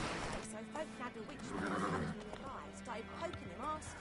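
A horse in The Witcher video game lets out a loud whinnying neigh, with rising and falling cries over game sounds while someone talks.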